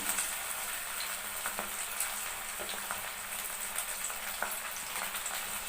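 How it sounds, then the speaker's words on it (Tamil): Marinated chicken pieces deep fry in hot oil with a dense, even crackling sizzle and scattered small pops throughout, steady and close, with no talking. "நம்ம அப்படி எடுத்து ஒவ்வொரு பீஸாக பொரித்து எடுத்துக்கலாம்."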